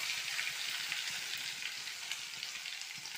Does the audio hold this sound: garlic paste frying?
yes